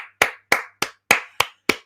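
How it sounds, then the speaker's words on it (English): Six sharp, close hand claps ring out alone at an even, unhurried pace, each a crisp slap with a short decay and silence between them. "Clap it up for yourselves"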